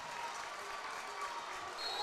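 Estill County fans on their feet at a 14th Region high school basketball tournament game, a steady, dense wash of cheering and clapping filling the gym throughout, with commentators talking over it.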